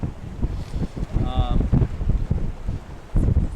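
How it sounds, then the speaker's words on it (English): Strong wind gusts buffet the microphone outdoors during a tenkara fly-fishing casting session, a loud, continuous low rumble that surges and fades, with brief speech in the middle. "Right now we have so much wind"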